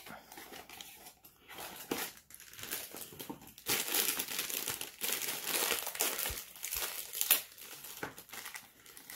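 Cardboard Funko box packaging is folded open, giving a steady close crinkling and crumpling with rustles and soft crushing scrapes and no talking.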